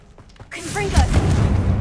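The Confringo blasting spell goes off in Hogwarts Legacy, a sudden loud fiery burst that swells into a sustained roaring rumble after a brief lead-in.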